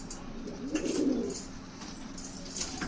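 A male pigeon cooing softly nearby, one low rolling coo with faint background noise.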